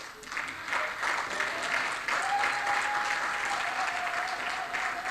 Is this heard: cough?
no